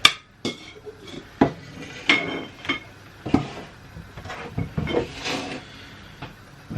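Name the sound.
bowl and kitchenware being set aside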